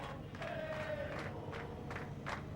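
Rescue crews on the surface at the Chilean mine rescue cheer in repeated bursts, distant shouts and whoops rising and falling over a low background rumble.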